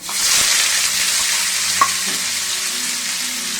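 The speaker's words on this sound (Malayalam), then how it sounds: "അതിലേക്ക് നമ്മൾ സവാള ഇടുന്നു." Chopped onion hits a hot pan of sunflower oil and popped mustard seeds, and a loud, steady frying hiss starts up close by and keeps on without any talk.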